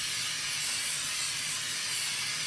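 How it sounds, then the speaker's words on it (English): Transfer liquid sprayed onto a T-shirt for no-heat transfer paper, heard as a steady, close hiss of aerosol spray running continuously without pause and with no talking. "Just spray that really good."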